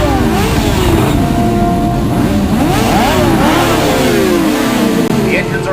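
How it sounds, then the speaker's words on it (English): ATV engines rev together at the start of a desert race, a loud, dense roar of several motors rising and falling in pitch throughout, with no pause. "The engines are revving and the starting flag has dropped."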